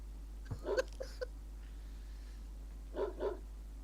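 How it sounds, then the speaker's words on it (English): A dog in the video game The Doge Island gives two short bursts of barking, a quick cluster of yips followed by a pair of clipped barks after a pause, fairly faint over a low steady hum. "So basically, you bark and then you stop immediately."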